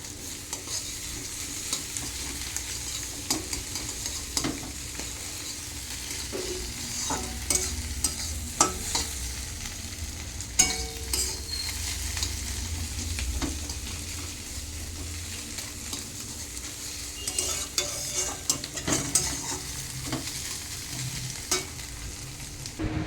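Beaten eggs with turmeric and chopped green chili stirred in a hot pan, a soft steady sizzle broken by scraping strokes of the spatula and a few sharper clinks at an irregular pace, close up and without talk.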